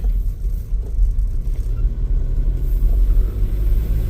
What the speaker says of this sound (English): I'm just driving through here just to show you the car park